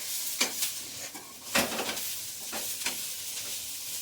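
Kannada-style tempering crackling in hot oil in a pan, with a few sharp sizzling bursts over a steady hiss, close and moderately loud, with no talking.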